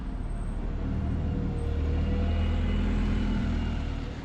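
A bus engine rumbles steadily and loudly throughout, close and continuous, as the bus leaves the main road on its approach to Okehampton beneath Dartmoor, with no talking.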